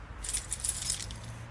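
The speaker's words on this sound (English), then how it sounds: "let me just get my keys out" A bunch of keys jangles close by in a short, bright metallic rattle at the front door of a home in Burbank, with no voices.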